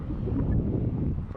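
Wind on a hot day buffeting the microphone outdoors in a low, continuous rumble, steady and loud throughout with no clear voice.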